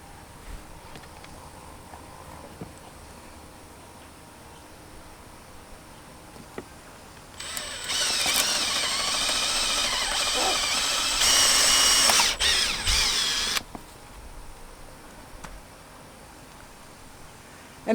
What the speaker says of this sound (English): I'm going to use this screwdriver to help twist these eye bolts in.